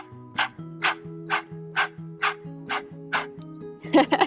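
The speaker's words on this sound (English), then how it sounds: "pant like a doggy" A person pants like a dog during a kids' yoga breath-of-fire exercise: about eight quick, even, breathy bursts at a steady rhythm, close and clear over soft background music, ending in a faster flurry.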